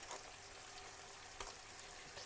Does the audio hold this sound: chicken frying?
yes